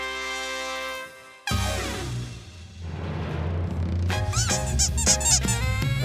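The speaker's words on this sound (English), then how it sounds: "With two mighty squeaks, the duckies then stopped and turned back to where they first came." Rubber duckies squeaking in a kids' rhyming cartoon, bright rising squeaks near the end over lively cartoon music and sound effects.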